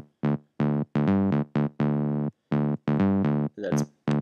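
Electro synth bass plays a choppy rhythmic pattern of short and held buzzy notes with bright harmonics and abrupt stops, loud and dry with no voices.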